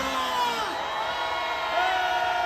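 Protest crowd at an impeachment-opposition rally outside the investigation office, cheering and shouting in a sustained roar, with whoops and yells rising over a dense crowd bed.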